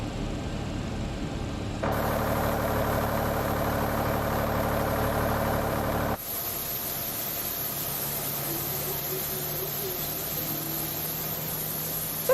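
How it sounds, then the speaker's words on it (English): Steady, loud whine and roar of a FedEx Boeing 767 jet engine idling just after start in a flight simulator, as a continuous drone that shifts in tone partway through, with no voices. "And looks like we have a good engine start."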